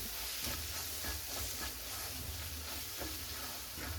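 Curry with coriander powder frying in a pan, a continuous close hiss and sizzle with faint stirring scrapes, steady and without talk.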